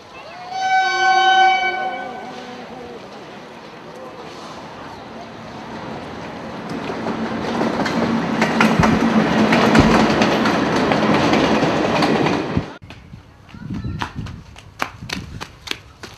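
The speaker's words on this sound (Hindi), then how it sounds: "अरे रेल चल रहा है दिल्ली तक जा रहा है।" Train running on rails, starting with a horn-like tonal blast, then a long rising rumble and rhythmic clatter of wheels that builds, before cutting off abruptly into sparse knocks and clicks.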